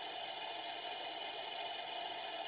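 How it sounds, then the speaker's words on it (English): A recorded diesel engine start plays through the small speaker of a 1/16 scale Leopard 2A6 model tank, heard as a steady, thin, buzzy engine drone at an even level with no breaks. "So now we got to do the engine start before anything works."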